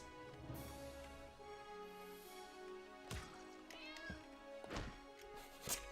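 A cat meows in a roguelike video game, several short meows rising over a quiet layer of game music and ambience.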